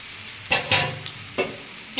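Okra pieces dropped into a pan of softened frying potatoes, sharp sizzling bursts as the vegetables hit hot oil, several distinct hisses spaced over a low steady fry.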